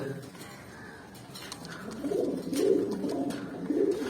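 Pigeons in a loft give soft, low cooing calls. The coos build in the second half, repeating close by over a quiet background.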